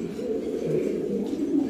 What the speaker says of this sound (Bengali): এটা হচ্ছে কি সরাসরি বিদেশি একটা কবুতর